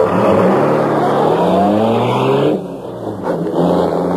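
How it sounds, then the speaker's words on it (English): The Green Hornet's powerful black car roars loudly through city streets as a radio drama effect, its engine note sweeping and climbing, then dipping briefly before surging again, with no voices. "Once more, the powerful black car roared through the city streets, carrying the Green Hornet on his errand of justice."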